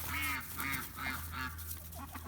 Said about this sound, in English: The ducks are coming too.